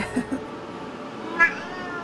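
Cat in a single cage at an animal shelter meows twice in quick succession, then gives one louder, longer meow, all close by over a steady hum of room noise.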